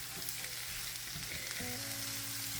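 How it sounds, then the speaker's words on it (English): Onions are stirred with a dab of olive oil in a cooking pan, making a steady, close sizzle with soft stirring scrapes. Faint background music plays throughout. "I'm going to stir all of this together real quick"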